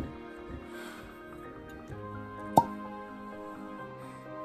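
A cork pulled from a Jack Daniels Single Barrel whiskey bottle, a single sharp pop midway through, heard over a soft musical background.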